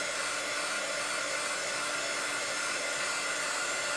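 A hair dryer blows steadily on biscuit-clay lace texture decorating a gift box, giving a loud, even, continuous whir from start to finish with no pauses.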